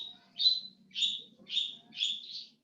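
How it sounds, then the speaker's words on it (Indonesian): Small bird chirping in the background of an online call, four or five bright repeated tweets spaced about half a second apart, faint behind a low hum with no talk. "Suara burung ada."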